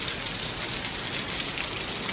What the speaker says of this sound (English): it's definitely raining, as you can see. It's a rainy day, no question about it